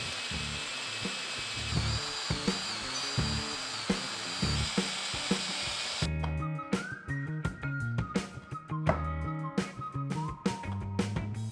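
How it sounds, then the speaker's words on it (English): A power drill bores holes through wooden boards in a small workshop, first a steady high whine, then a louder section of stuttering bursts as the bit chews through the wood, with no talking. "drill some smaller holes all the way through till I get to the other end"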